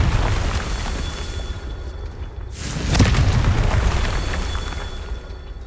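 A Confringo blasting spell from Hogwarts Legacy goes off with a single deep, booming explosion near the middle, rising over a steady rumbling game background and then slowly tailing off.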